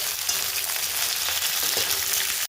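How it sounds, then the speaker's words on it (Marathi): Okra frying in hot oil in a pan for bhindi do pyaza, a steady loud sizzle that runs unbroken from start to end and cuts off sharply at the close, with no voices. "भेंडी व्यवस्थित परतून घेतोय एक दोन ते तीन मिनटं आरामशीर लागतात"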